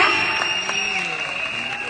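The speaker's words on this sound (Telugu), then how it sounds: "లేచి నిలబడి చప్పట్లు కొడుతున్నారయ్యా" Audience rising to its feet in a standing ovation at a Daaku Maharaaj film event in Dallas, with steady applause and crowd noise sustained throughout, a tonal whistle or feedback line running over it.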